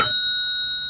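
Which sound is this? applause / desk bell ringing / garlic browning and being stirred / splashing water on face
desk bell ringing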